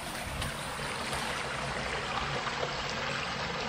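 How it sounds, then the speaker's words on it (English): A heavy buildup of water flows with a steady, even rushing wash, heard fairly close and without pause or talking. "you can hear just the water flowing"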